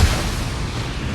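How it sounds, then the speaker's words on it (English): A turret is destroyed in the mobile game Honor of Kings, heard as a steady, loud, low rumbling blast that fills the whole moment without any voice. "Your team has destroyed a turret."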